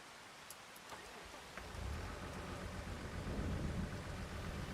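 Steady rain falls on a farm field, a broad hiss that swells louder about two seconds in and holds as a constant wash, with faint distant rumbling beneath and no voices.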